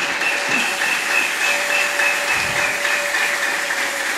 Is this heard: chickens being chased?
no